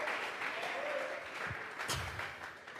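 A church congregation at a Bible study service claps in praise, a soft, steady wash of applause heard at some distance, with a couple of brief louder bumps near the middle.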